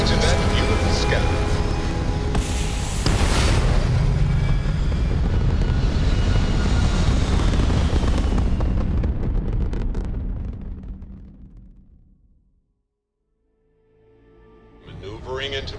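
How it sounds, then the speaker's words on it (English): A spaceship in Starfield lifts off with a loud, broad engine roar that rumbles for several seconds, then fades away to near silence before a new sound rises at the end. "Liftoff initiated, Captain. Time to venture into that beautiful sky."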